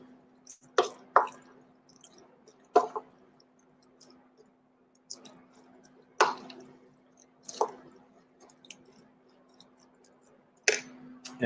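Seasoning being stirred into a Tex-Mex loaded fries mixture, heard as scattered soft wet squishes and clicks of a spoon against the bowl, irregular and close, with a steady low hum underneath.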